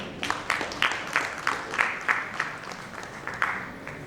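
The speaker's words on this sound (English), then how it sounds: "Can we have a huge round of applause for him?" Audience applause at an infrastructure summit in Mumbai for a speaker on urban transport, a thin, moderately near clapping with distinct individual claps in a loose rhythm, fairly sparse, as if from a modest crowd.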